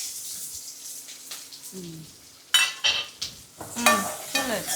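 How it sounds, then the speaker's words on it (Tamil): Green chilies, shallots, curry leaves and dried chilies fry in a pan, a soft sizzle with sharp bursts of spattering and stirring, while voices talk over it. "பச்சை மிளகா, சின்ன வெங்காயம், கருவேப்பிலை, வத்தல் எல்லாம் போட்டாச்சு"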